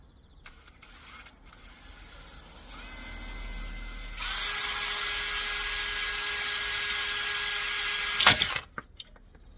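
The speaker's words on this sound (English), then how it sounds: "Just drill straight through the rivets." A power drill whirs at high pitch for several seconds, drilling through rivets in a Citroen Relay van, grinding steadily before cutting off, after some faint clicks and tool handling.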